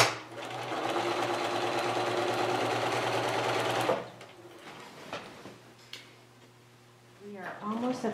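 A sewing machine runs steadily for about four seconds while stitching a quilting roll, then stops, followed by a few handling knocks and a brief voice near the end.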